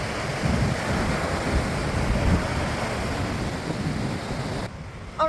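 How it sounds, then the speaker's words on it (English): Ocean surf at a California beach rolls on as a steady broad wash, close and fairly loud, with wind buffeting the microphone and a brief dip near the end. "here's what it looks like today at the California beach"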